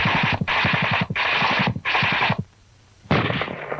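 A German tank in WWII combat fires in rapid bursts, a loud rattling volley of machine-gun shots in several rhythmic strings broken by short pauses and one longer silence.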